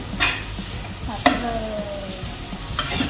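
Soba noodles with clams being stir-fried in a pan, a steady close sizzle broken by a few sharp clinks and scrapes of a utensil against the pan.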